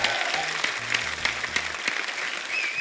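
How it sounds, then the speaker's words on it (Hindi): A TV studio audience claps steadily in a dense, sustained round of applause on a comedy talk show, close and loud, with music faintly underneath. "जोरदार ताली हो जाए"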